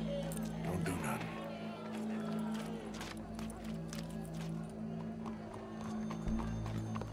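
Video game sound of horse hooves clip-clopping in a rhythmic trot alongside a whinny, over a steady low musical hum and faint crowd murmur.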